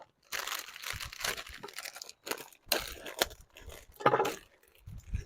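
A bag of Red Lobster Cheddar Bay biscuit mix being opened outdoors on a windy day, heard as close crinkling and tearing of plastic in a run of bursts.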